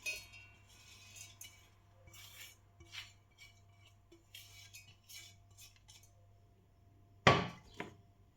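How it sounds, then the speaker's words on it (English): Roasted dry coconut, some of it slightly burnt, is scraped from a pan into a mixer jar while preparing a kala masala for chicken: scattered soft scrapes and clinks of a utensil, then one sharp, loud clank near the end, with no talking. "I'll directly put it in the mixer jar because we have to grind it next"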